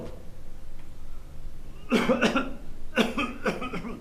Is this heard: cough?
yes